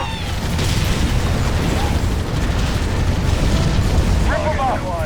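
Weapons fire from units in the real-time strategy game Halo Wars, a dense barrage of booming explosions and bursts rolling continuously with a few short electronic chirps near the end.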